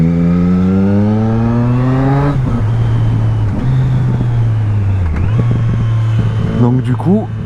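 A nearly new Triumph Street Triple S motorcycle with about 3000 km on it revs hard, its engine note climbing steeply. It then drops through a shift into a lower, wavering drone before rising again, loud and close.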